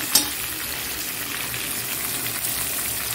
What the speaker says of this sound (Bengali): এবার ঢেকে ঢেকে ভাজবো